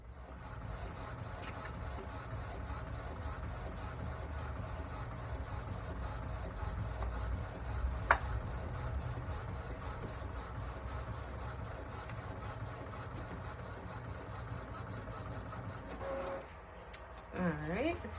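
A printer runs steadily, its mechanical hum and repetitive feed pulses continuing at a constant level, with a few sharper clicks and a brief squeal near the end.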